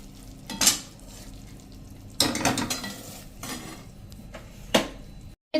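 A spoon stirs caramel semolina sheera in a pan off the heat, with several sharp scraping bursts against the metal between quieter stretches, close and clear.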